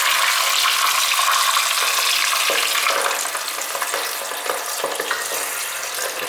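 White radish sizzles loudly as it is stir-fried in a pan, the crackle easing partway through, with scraping stirs and a few clanks of the utensil against the pan, close up and without talk.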